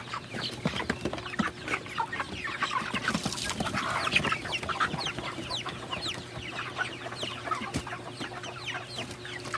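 Chicks and young chickens around 29 days old on a farm, their water cooled with ice, give off a steady chorus of peeping and clucking, with busy chirps throughout and no talking.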